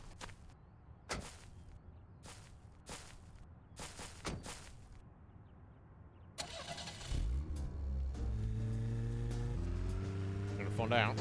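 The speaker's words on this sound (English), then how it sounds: "I think I'm gonna drive through there." A car driving in the video game Deadly Premonition: a few thumps and steps are followed by an engine that starts up and then revs steadily, climbing in pitch. Someone talks over it.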